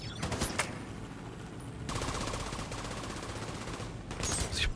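Gunfire in The Division 2 at Tidal Basin, with bursts of rapid automatic shots at the start, a sustained stretch of fire in the middle and another burst at the end, all fairly quiet.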